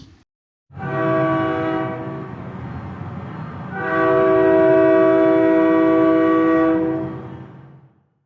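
A train horn blasts loudly in two long sustained tones, the second louder and brighter, over a low rumble of the passing train.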